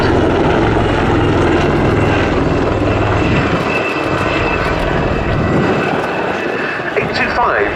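A Royal Navy AgustaWestland Wildcat military helicopter roars close by at an air show, its engine and rotor droning loudly and steadily throughout.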